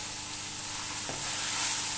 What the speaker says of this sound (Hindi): अब हम टमाटर की पेस्ट डालकर हम इसे भूनेंगे।